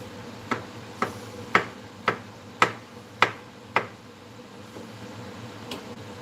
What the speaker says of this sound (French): Donc on va essayer de faire un émincé de champignons avec ça.